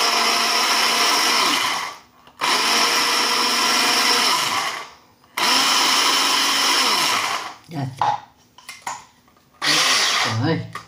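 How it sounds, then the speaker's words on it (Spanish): A blender grinds sugar with lemon zest in loud, sustained bursts with short pauses between them, then shorter pulses near the end, recorded up close. "voy a picar la azúcar con la ralladura de limón"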